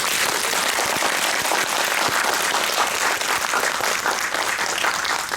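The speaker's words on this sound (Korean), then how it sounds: "큰 박수를 맞아주세요." An audience at a film festival talk event applauds, a dense, continuous wash of clapping from many hands that holds steady for several seconds, with faint voices mixed in.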